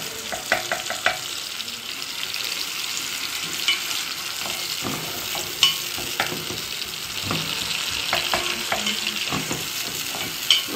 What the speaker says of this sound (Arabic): نبدأ بقى البصل يتحمر اهو، هنسيبه لغاية ما يتحمر خالص